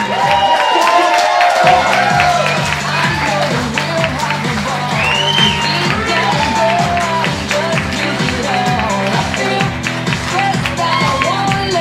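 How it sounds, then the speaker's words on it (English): Wedding guests applaud and cheer at a reception as the wedding party is introduced, a steady crowd wash over a loud, rhythmic musical beat, with scattered whoops rising through it. "Let's give a nice round of applause"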